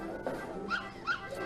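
A cartoon puppy in the Earthworm Jim 2 video game gives a few short whimpering yelps, rising and falling whines over the game's soft background sound.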